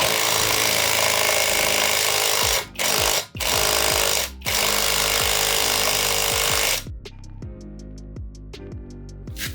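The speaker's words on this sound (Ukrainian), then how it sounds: "Переключаємось на другу швидкість і дотягуємо гайку." Cordless impact wrench bought cheaply online, tightening a nut on second speed: loud sustained buzzing hammering in several bursts with short gaps, then a quieter rattling wind-down, close up.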